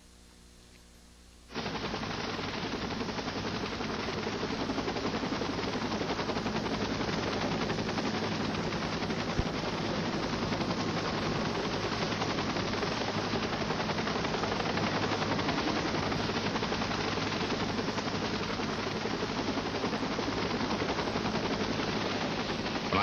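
A helicopter in flight carrying a horse slung beneath it gives a steady, loud rotor and engine roar that starts abruptly and holds evenly throughout with a rapid chopping texture.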